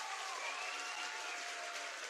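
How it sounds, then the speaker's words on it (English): Applause sound effect played during a gaming talk show, a steady even wash of clapping that holds for about two seconds at moderate level, alone without talk. "Let me get the round of applause."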